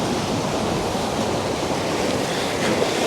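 Ocean waves surge and wash into a beach cave in a continuous roaring rush, broad and loud with wind buffeting the microphone, no voices.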